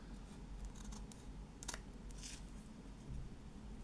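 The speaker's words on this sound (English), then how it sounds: "there's a little bit of overhang of paper there, so we'll just trim that off" Scissors trimming overhanging paper during a print-to-wood transfer, a few quiet snips and crisp cutting crunches close by in an otherwise quiet room.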